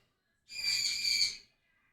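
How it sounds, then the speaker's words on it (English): A single drawn-out, high bird call rings out once in the morning, lasting about a second against otherwise quiet surroundings. "Sounds like a child is up and has woken up the birds."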